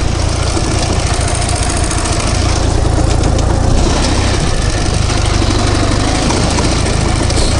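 A Ural truck engine pulling slowly in second gear, a loud, low, steady drone with rough vibration heard close up from inside the cab, no speech.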